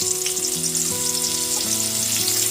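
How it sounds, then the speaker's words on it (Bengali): Pieces of pointed gourd (potol) fry in hot oil over a medium gas flame, giving a loud, steady close sizzle with faint stirring, no voices. "তেলের সাথে খুব ভালো মতো মিশিয়ে নিয়ে গ্যাসের ফ্লেমটা মিডিয়ামে রেখে বারবার নাড়াচাড়া করে পটলটাকে লাল করে ভেজে নেব"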